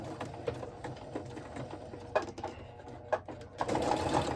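A sewing machine runs in steady stitching bursts, a rapid mechanical whir with clicks, pausing briefly and then speeding up again near the end.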